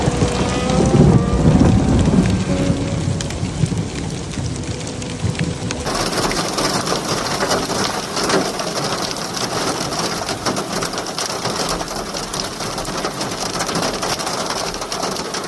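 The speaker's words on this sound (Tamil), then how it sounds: "ஐஸ் மழை மற்றும் இடைவிடாத மழை பெய்து கொண்டு" Heavy hailstorm with relentless rain in Taif, Saudi Arabia, a dense steady roar of water and ice pelting surfaces, louder and busier in the first few seconds, then a constant broadband downpour with faint low rumbles beneath.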